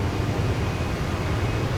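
Jet engines of a large plane running at full power during a video game takeoff roll, a steady, dense broadband roar with a deep rumble underneath and no pauses.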